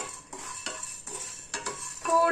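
A handful of sorghum grains scraped and stirred in a preheated pan, metallic clinks and rattling scrapes in a few bursts, with a louder sizzling rattle rising at the end, close and fairly quiet.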